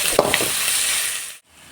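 A spiced mixture with salt, turmeric and chilli fries and sizzles in a pan, with a couple of sharp scraping stirs, before the sound abruptly cuts out.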